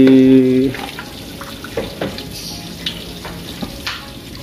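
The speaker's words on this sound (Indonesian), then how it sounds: "Kita goreng lagi cempedaknya" A brief loud tone gives way to crackling, popping oil as battered cempedak fruit pieces deep fry, sizzling steadily with scattered sharp pops, close by.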